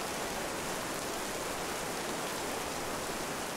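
Steady, dense hiss of heavy rain falling in the survival video game This Land Is My Land, a continuous wash of even noise with no breaks or other sounds for the whole stretch.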